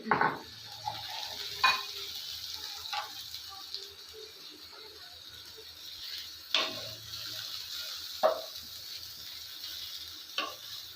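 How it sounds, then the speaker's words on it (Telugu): Vegetables frying lightly in a pan for pasta, a soft steady sizzle with occasional louder scrapes and clinks of a utensil against the pan, moderately close with no talking. "ఫ్రై చేసుకోవాలి బాగా. ఇలా లైట్గా ఫ్రై అయిన తర్వాత క్యాప్సికమ్ వేసుకుందాం."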